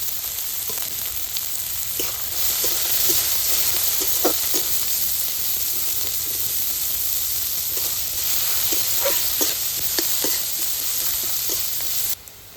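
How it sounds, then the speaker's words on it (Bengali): Chopped onion, garlic and green chilli frying in hot oil left from frying a fish head, giving a steady close sizzle with small crackles and pops, alone without talk. "পেঁয়াজ রসুন ভাজা ভাজা হয়ে আসছে"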